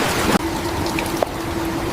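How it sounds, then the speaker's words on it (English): Rain falling on cobblestones beside a stable wall, a steady broadband hiss of drops with a faint sustained tone running underneath and a couple of brief sharper splashes. "Rain hammered the cobblestones as Anna pressed herself into the shadow"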